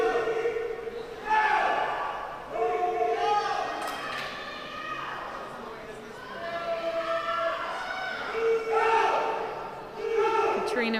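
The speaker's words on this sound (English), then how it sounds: "it's nice to know that people are cheering for you" Spectators shouting and cheering at a swim and dive meet, rising in surges of voices that swell and fade in an echoing indoor pool setting, with a loud, close crowd roar.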